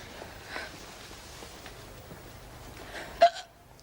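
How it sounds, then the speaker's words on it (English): A single sharp hiccup from a woman in a prison drama scene, heard once near the end after a stretch of quiet room tone, close and fairly loud. "Now I've got the hiccups."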